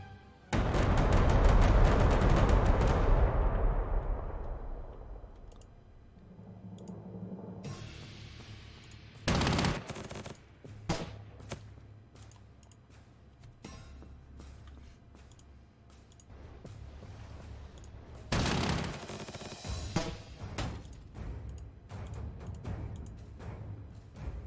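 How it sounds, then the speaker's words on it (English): Fighter bombers striking in the Panzer Corps 2 strategy game: a loud, dense burst of explosions and gunfire up front, then scattered booms, thuds and crackling impacts of varying strength over a low rumble. "Fighter bombers. Yes, I would definitely like to bomb you."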